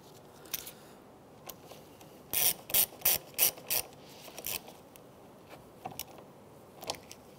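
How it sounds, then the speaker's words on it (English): Ratchet clicking in quick bursts as the negative battery terminal is tightened on a Hyundai Elantra, a close run of crisp pawl clicks in a quiet setting. "All right, so now we'll connect the negative terminal."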